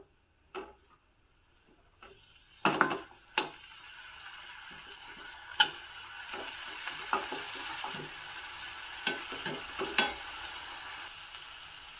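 Dill leaves fry gently in a pan, probably in ghee, under a soft, low sizzle while a spoon scrapes and clicks against the pan in scattered sharp taps, close and quiet, with no talking.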